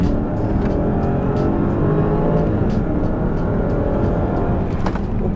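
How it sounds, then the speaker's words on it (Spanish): A Range Rover Autobiography with a 510-horsepower supercharged V8 revs during an off-road test. The engine gives a deep, steady roar, close and loud, with a brief throttle blip and no talk over it. "pequeñísimo acelerón"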